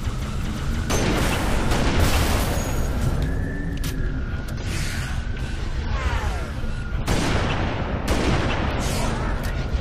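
Sniper rifle fire in the Halo video game: a few heavy, booming shots spaced seconds apart, each with a rumbling tail over busy in-game noise and occasional voices.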